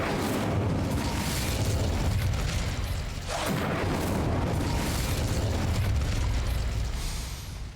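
A fire spell cast in Hogwarts Legacy erupts into a loud, sustained roaring blaze with a crackling, explosive texture, holding steady for several seconds with a brief dip midway before swelling again.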